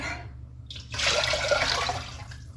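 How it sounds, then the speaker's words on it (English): Water pours steadily into a soup pot holding a turkey carcass for a couple of seconds, a full splashing rush that starts abruptly after a brief quieter moment. "So I'm going to add about 6 cups of water to that."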